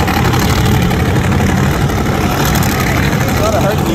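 An old school funny car engine revs loud and steady throughout, a dense, constant roar with no pauses, while voices are faintly mixed in.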